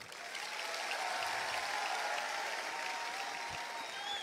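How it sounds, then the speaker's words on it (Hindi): Audience applause at a public speech, a loud, steady wash of clapping that fills the whole moment without letting up. "इस चीज पे तालियां मैं चाहता हूं आपसे"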